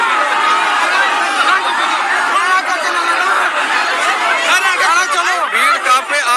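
A dense crowd at an Uttarakhand unemployed union rally on state foundation day, loud continuous chatter and shouting voices filling the air close by, with a reporter talking over it.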